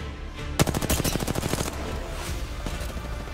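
Rapid bursts of automatic gunfire in a shooter video game, a dense run of close, loud shots lasting about a second, then scattered lighter shots over a steady game-ambience bed.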